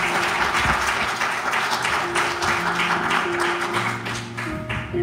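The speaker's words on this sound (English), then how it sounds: "round of applause." Church congregation claps loudly and continuously for several seconds while sustained organ or keyboard tones ring beneath the dense applause, tapering slightly near the end.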